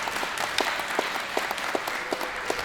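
Audience applause at an elementary school renaming ceremony, a steady wash of clapping with distinct individual claps popping out, moderately loud and continuous throughout.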